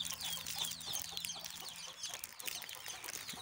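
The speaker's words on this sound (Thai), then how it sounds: "เอาข้าวให้ไก่ยามเช้าๆกันนะครับ" Chickens being fed rice on a cold morning, a flock clucking and chattering in a busy overlapping stream, fairly close but soft, with light rustling and no talk.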